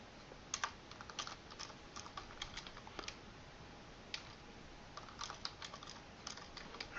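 Faint, quick keyboard clicks as a formula is typed on a computer keyboard into an Excel Power Pivot sheet, an irregular patter of soft taps over a quiet background hiss.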